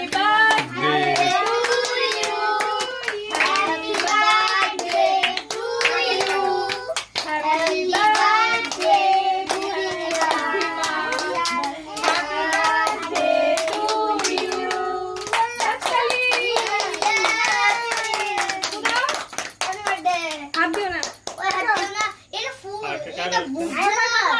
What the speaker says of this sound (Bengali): হাতে তালি দিবি